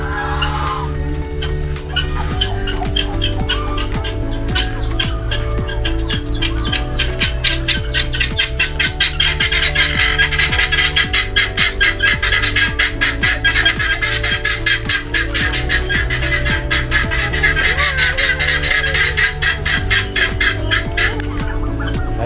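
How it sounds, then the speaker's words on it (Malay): Guinea fowl and turkeys at a seaside chalet call continuously and loudly close by, a dense chorus of rapid repeated clucks, squawks and gobbles with no talk. "Ayam mutiara, ni ayam Belanda."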